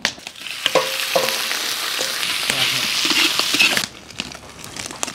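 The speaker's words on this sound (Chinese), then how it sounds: "锅里来点油，把牛舌先煎一下。" Slices of boiled beef tongue sizzle in hot oil in a pan, a steady, dense frying crackle with occasional stirring noises that drops away abruptly near the end.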